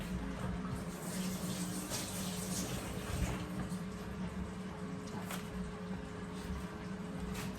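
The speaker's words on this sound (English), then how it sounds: "Sorry, let me just wash my hand, guys." Tap water runs steadily from a kitchen faucet while hands are washed under it during home cooking, a continuous moderate splashing rush with no talk.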